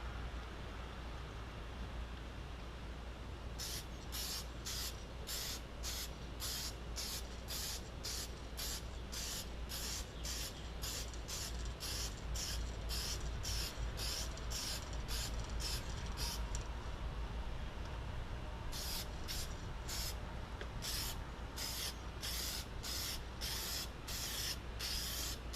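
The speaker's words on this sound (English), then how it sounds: "This can's got a really good spray, so I'm able to stay back a good 12 to 15 inches" An aerosol can spraying toner lacquer onto a Zenith 5-S-29 radio cabinet, giving repeated short hissing bursts in quick even strokes, a pause, then another run of bursts over a low steady background hum.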